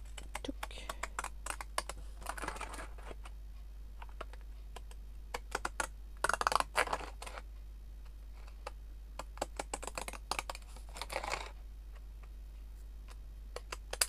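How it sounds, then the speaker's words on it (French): Pinking shears snipping through fabric in a sewing craft project, heard as several short, crisp crunching cuts in separate bursts over a quiet background with a low steady hum. "je prends mon ciseau cranteur et je vais venir couper ça"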